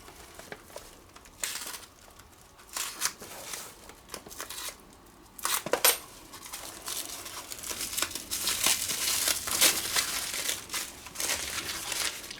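Paper packing crinkles and crumples while a parcel of viewer mail is unpacked in a workshop, a run of close, irregular rustling and crackling bursts that grows busier and louder toward the end, with no talk.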